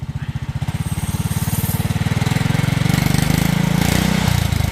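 A John Deere 110 riding mower repowered with a MaXpeedingrods 7HP 212cc engine runs steadily nearby, its rapid thumping exhaust pulses loud and continuous, rising slightly in pitch as it goes.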